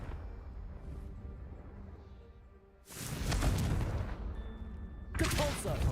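Two loud Confringo fire-spell blasts burst in Hogwarts Legacy a couple of seconds apart, each a roaring crackling whoosh over a low ambient game hum.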